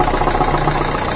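A Renault Clio 3 with a 1.5 dCi diesel engine idles with a steady, rough running noise, a harsh internal knock mixed into the continuous drone at close range.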